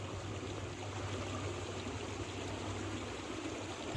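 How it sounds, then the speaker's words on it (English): A small woodland stream flows steadily, a continuous close babbling and rushing of water with no breaks and no voices. "That's a cute little woodland stream."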